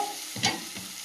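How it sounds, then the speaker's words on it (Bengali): Duck meat is stirred into fried, cooked-down spice paste with garam masala and ginger, giving a brief soft scraping stir over a low sizzle in the pan. "মশলাটা কষিয়ে নিয়েছি মাংসগুলো দিয়ে দেব"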